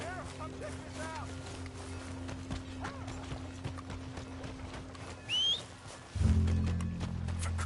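Hoofbeats of a horse in Red Dead Redemption 2 clip-clop steadily at moderate volume under game music and speech, with a brief whinny-like rise near the end before a heavier ambient swell.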